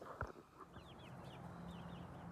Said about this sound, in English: Look at all the different colored chickens in this rooster here.